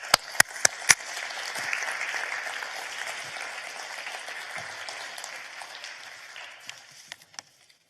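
A conference audience claps in a sustained round of applause that swells after a few sharp opening claps and gradually thins out, with a few last isolated claps near the end; no speech.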